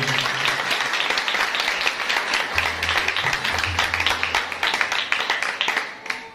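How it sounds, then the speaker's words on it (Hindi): A church congregation breaks into loud applause for a pastor, with dense, sustained clapping that continues steadily before fading slightly at the end. "हम उनकी खिदमत के लिए एप्रिसिएशन के लिए जोरदार ताली।"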